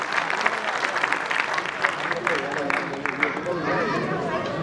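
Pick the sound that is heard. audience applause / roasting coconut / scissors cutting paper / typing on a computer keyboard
audience applause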